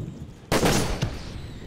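A sniper tower fires in the toy-army strategy game Toy Soldiers: one loud, sharp gunshot at about half a second that rings into a decaying tail, followed by a fainter pop, with no voices.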